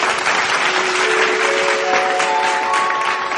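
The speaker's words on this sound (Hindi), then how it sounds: "जोरदार करताली" Steady, dense applause from an audience at an Odia song stage event, filling the whole stretch, loud and continuous with a faint tonal hum underneath.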